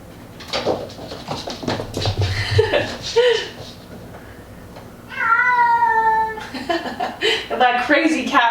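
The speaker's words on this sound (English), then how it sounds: "That crazy cat running around." A house cat meows repeatedly indoors during a gentle yoga class, several drawn-out, fairly loud cries, one long wavering meow standing out, mixed with a person talking and chuckling.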